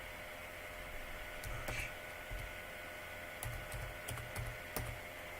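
Keys tapped on a computer keyboard, a short burst of typing with several separate keystrokes spread over a few seconds, close by against a steady background hiss.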